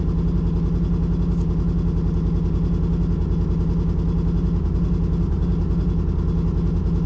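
A Polaris RZR 900S side-by-side engine idling cold while warming up, running rich, a loud, steady rapid low-pitched putter that stays even throughout, close up with no talk.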